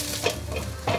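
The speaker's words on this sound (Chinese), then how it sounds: "放入猴头菇，给它炒香一下" Lion's mane mushrooms stir-frying in leftover oil in a wok, a steady close crackle with a couple of brief louder scrapes of stirring.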